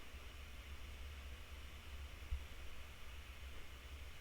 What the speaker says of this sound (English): It's like this kind of really faint white noise, sort of a staticky sound.